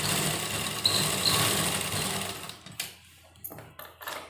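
A sewing machine runs a pajama seam with a steady close whir for a couple of seconds, then stops, leaving a few scattered clicks and handling sounds.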